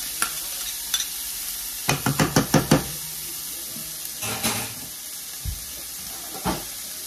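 Onions drop into a hot pan and sizzle faintly, while a utensil gives a quick run of sharp knocks and scrapes against the pan and then a few scattered taps, with no talking.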